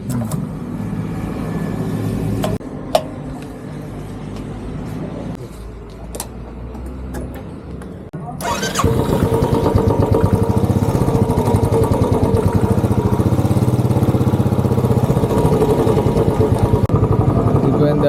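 A motorbike on a trip near Kodaikanal is kicked to life after some quieter handling noises, then settles into a loud, steady close idle with a rapid throbbing pulse, while someone speaks over it.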